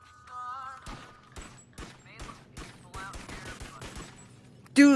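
Gunfire in the VR game Bone Lab: a string of sharp, separate shots, some in quick pairs, rings out across a few seconds over a low hum, ending in a loud burst.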